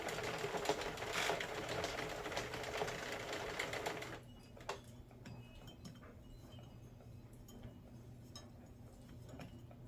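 Sentro plastic circular knitting machine working yarn into a neck warmer gives a busy, dense clicking rattle for about four seconds, then stops, leaving faint scattered ticks over a quiet room.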